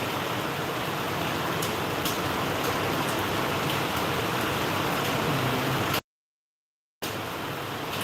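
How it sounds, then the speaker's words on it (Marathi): Heavy rain pours at a factory in a dense, loud, continuous roar, briefly cut to silence before resuming. "आज खूप खतरनाक पाऊस चालू आहे"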